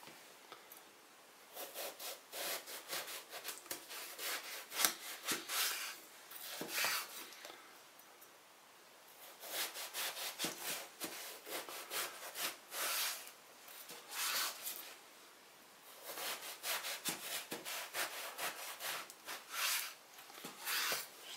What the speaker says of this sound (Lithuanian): Šitą viršutinį galima nupjauti. Ir taip pat supjaustum.